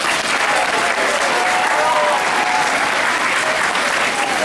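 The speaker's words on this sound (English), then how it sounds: "I'd like to especially give another round of applause to our band choir" A school Christmas show audience applauds the student band and choir with dense, steady clapping that fills the hall at full loudness throughout, with no pauses or voices breaking through.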